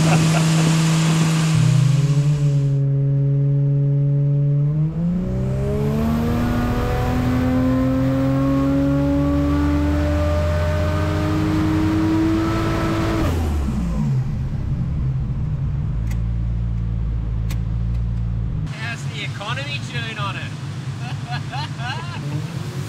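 A Barra engine in a Toyota Crown wagon build revs up and falls back through long rising and falling sweeps, loud and close, its rumble settling to idle before a brief clatter at the end.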